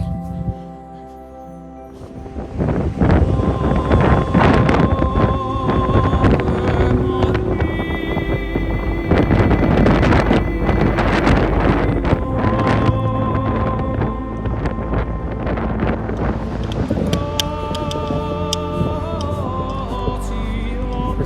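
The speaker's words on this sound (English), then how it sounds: "Very windy, but here we are" Loud, steady wind roaring across the microphone on a snowy mountain trail toward Ontario Peak, with gusty low rumble and scattered tones mixed in, continuous throughout.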